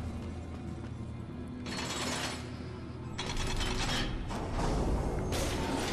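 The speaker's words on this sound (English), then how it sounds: "Alright, so elevator back down." An elevator mechanism in the Darksiders video game grinds and creaks steadily, with mechanical ratcheting and gear noise swelling in repeated surges over a low rumble.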